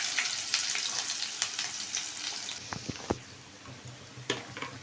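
Ginger paste fries in hot oil for a chicken pickle, giving a close, steady sizzle with scattered pops and crackles that softens slightly partway through.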